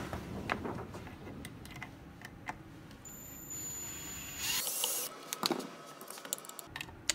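Small corner screws come out of a Boosted Board electric skateboard heatsink, with light metallic ticks and scraping clicks of a driver working close up, scattered irregularly with a brief rustling burst midway.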